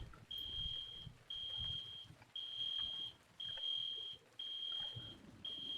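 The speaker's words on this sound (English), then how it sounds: "Reset all fire alarms at scene." A video game fire alarm at a bank fire scene beeps high-pitched in regular long tones, about six in a row with short gaps, over a faint low background rumble.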